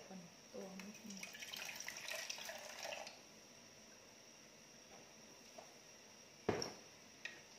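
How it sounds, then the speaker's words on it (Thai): About a litre of water is poured into a pot, a gushing pour for a few seconds followed by quiet and a couple of sharp clinks, with faint talking in the background. "ใส่น้ำไปให้ได้ลิตรหนึ่งค่ะ"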